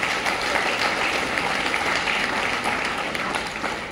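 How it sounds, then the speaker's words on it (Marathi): An audience at a book launch event in Pune claps together in a dense, continuous burst of applause, loud and even before tapering slightly at the end. "मला वाटतं ह्या सगळ्या घटकांसाठी आपण एकदा जोरदार टाळ्या वाजवू"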